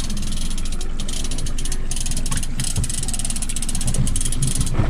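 Fishing reel cranked steadily while reeling in a king salmon outdoors, a loud, fast ratcheting whir with rapid mechanical clicks that continues without pause, close to the listener.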